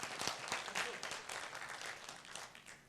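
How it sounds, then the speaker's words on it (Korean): An audience at a Buddhist monk's talk applauds, giving a dense, continuous patter of many hands that stays steady for a few seconds at a soft, somewhat distant level. "박수 한번 쳐주세요"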